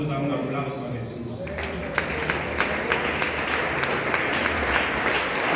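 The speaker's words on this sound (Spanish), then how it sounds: "Cuando da un aplauso a Jesús." A church congregation breaks into sustained applause, dense rhythmic clapping rising after a moment and continuing loudly to the end, with voices mixed into the crowd.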